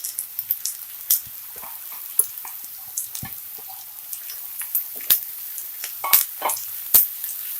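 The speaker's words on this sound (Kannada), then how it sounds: "ಚೆನ್ನಾಗಿ ಮಿಕ್ಸ್ ಮಾಡಿಕೊಂಡು ಒಂದು ಎಣ್ಣೆಯಲ್ಲಿ 1-2 ನಿಮಿಷ ಫ್ರೈ ಮಾಡ್ಕೊಳ್ಳಿ" Chopped carrots frying in oil with onions in a pan for carrot palya, a close, steady crackling sizzle broken by sharp pops and occasional stirring scrapes, no voices.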